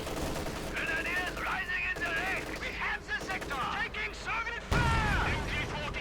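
Machine gun fire and battle noise in the Company of Heroes 2 strategy game, rapid bursts and booms mixed under continuous commentary.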